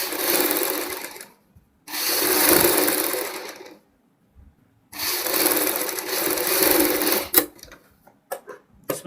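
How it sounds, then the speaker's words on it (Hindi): An electric sewing machine stitches fabric for a boat-neck blouse in long continuous runs with short pauses between, a steady loud whirring, then a few quick clicks and taps as the cloth is adjusted; no talking. "अंदर का कपड़ा टाइट करते हुए हमने सिलाई लगानी है"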